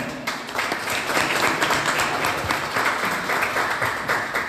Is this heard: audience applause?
yes